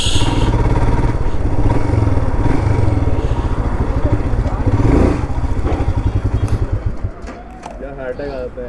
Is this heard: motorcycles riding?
yes